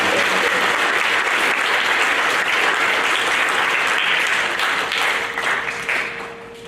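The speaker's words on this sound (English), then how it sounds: "How about a round of applause for our science award winners?" Loud, sustained applause from a large crowd at a seventh-grade school awards program, steady clapping throughout that gradually tapers off at the end.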